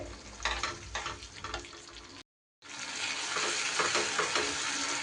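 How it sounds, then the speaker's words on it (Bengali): Spice paste sizzles and crackles steadily in a pan for a jackfruit and paneer curry, close and continuous, interrupted by one brief silent break before the frying resumes. "এবার সুন্দর করে মশলা কিন্তু কষিয়ে নিতে হবে।"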